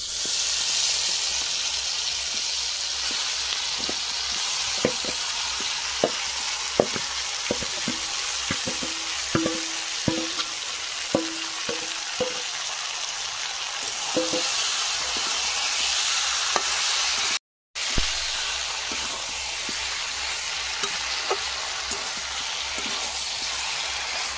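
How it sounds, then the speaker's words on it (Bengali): Hand-mixed soybean chunks sizzle steadily in a hot pan for a soybean kalia curry, a loud continuous frying hiss with scattered clicks and scrapes of stirring, alone throughout. "দেখুন হাতে মেখে রাখা সয়াবিন দিয়ে দেবো।"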